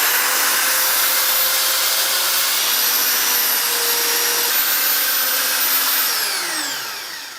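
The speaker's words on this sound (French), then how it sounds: "Je procède au mélange avec un malaxeur électrique." An electric paddle mixer churns tile adhesive powder for laying pool tiles, a loud, steady motor whine holding for about six seconds before winding down.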